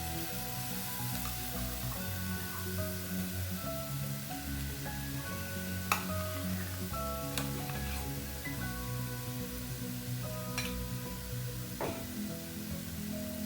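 Roasted red chili paste frying in a chicken stew pan, a constant close sizzle with bubbling and a few sharp spatters and stirring clicks throughout.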